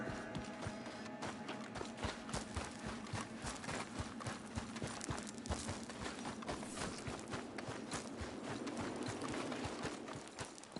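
Horse hooves clip-clopping in Red Dead Redemption 2, a fast rhythmic run of close, sharp hoof impacts continuing throughout.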